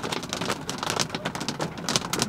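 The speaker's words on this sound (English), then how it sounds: "New Mexico just brings in this lovely, lovely thunderstorm." Heavy thunderstorm rain pours down in the New Mexico desert, a dense, close hiss of drops drumming steadily on surfaces.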